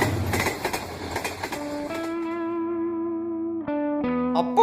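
A cartoon train sound effect plays alone: a quick rhythmic chugging gives way to a long, steady whistle-like electronic tone that drops out and comes back near the end.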